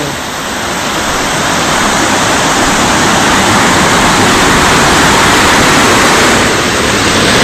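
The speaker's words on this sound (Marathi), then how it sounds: "डायरेक्ट आठ टर्न मारल्यानंतर असा धबधबा येतो" A waterfall in dense monsoon forest near Ratnagiri roars close by, a loud, continuous broadband rush holding steady from start to finish with no voices.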